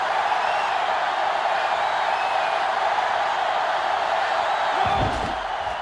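Stadium crowd noise roars steadily throughout an NCAA Football 2005 video game matchup between Notre Dame and Clemson, a dense, loud wash that fades slightly near the end with a low thump.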